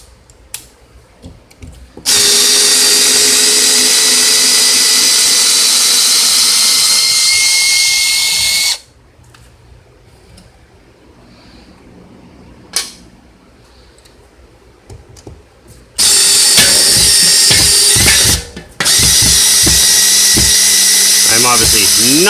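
A power drill runs at close range while drilling a pilot hole and driving a screw to anchor an HVAC mounting plate. Long loud whirring bursts are separated by quiet gaps filled with clicks and handling noise.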